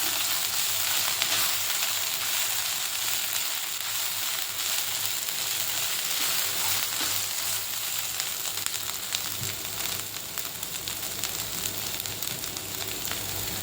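Finely chopped green chillies fry in hot oil in a pan for a dhaba-style bhendi masala, giving a steady, loud, close sizzle that crackles evenly throughout with no voices.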